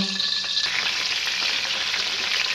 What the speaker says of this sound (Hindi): ये मैं लहसुन अदरक इसी में डालता हूँ